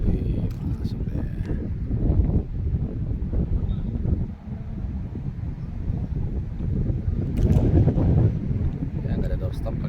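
Strong wind gusts buffet the microphone on an outdoor football training pitch during a national under-23 team session, a steady rumbling roar throughout with faint voices of people talking underneath.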